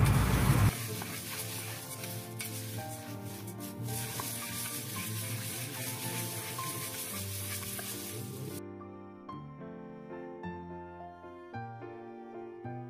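A ladle stirs puffed rice through oil in a pan, giving a soft continuous rustling and sizzling texture with scattered scrapes. It starts with a loud thump, and the sound turns quieter and thinner near the end.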